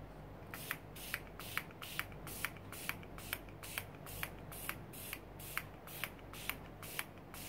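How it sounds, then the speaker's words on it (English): An aerosol spray hisses in steady, evenly spaced bursts onto a mixed media sea assemblage, each short puff repeating about every half second, close and clear with no voices. "There is a lot of spray here."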